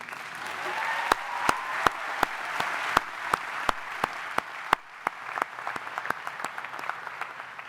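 Audience applause at the Manhattan College undergraduate commencement in 2017, a steady wash of clapping from a large crowd with sharp individual claps standing out and a faint voice underneath.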